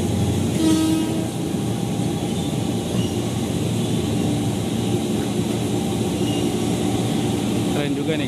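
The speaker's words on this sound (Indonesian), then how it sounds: "Merapat di stasiun Mangga Besar." A JR 205 series commuter train of ten cars pulls into Mangga Besar station on the Red Line. A loud, steady rumble of wheels and motors runs throughout, with a brief horn-like tone near the start.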